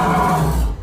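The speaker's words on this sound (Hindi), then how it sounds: "फिर मैंने बाहर से एक जोरदार चीख सुनी" A wendigo creature lets out a loud, harsh scream in a horror story sound effect, a brief, raw, roaring shriek lasting under a second.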